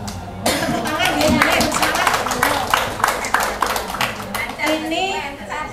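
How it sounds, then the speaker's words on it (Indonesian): Audience members at an Indonesian village deliberation meeting break into a sustained round of clapping, a dense patter of many hands mixed with murmuring voices and a voice. "Tepuk tangan ya"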